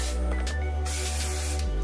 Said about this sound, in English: lightly spray the hair.